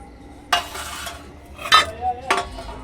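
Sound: adding beans and capsicum to chicken stew in pot

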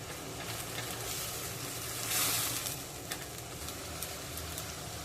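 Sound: tomatoes and green chilli sizzling in oil

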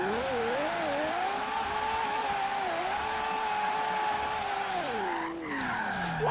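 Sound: car drifting, tires skidding in video game Forza Horizon 3

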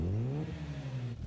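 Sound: Mazda RX-7 rotary engine revving in anime

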